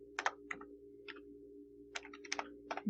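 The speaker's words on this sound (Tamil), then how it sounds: "gmail.comனு டைப் பண்ணிக்கிறேன்." Quiet, sparse bursts of computer keyboard clicks in irregular clusters as an email address is typed. No one speaks.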